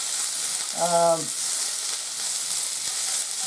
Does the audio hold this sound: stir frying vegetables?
yes